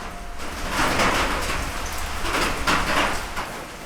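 Steady rain pours on the Appalachian Trail, a dense, close hiss of drops with slightly heavier patches, continuous throughout with no voices.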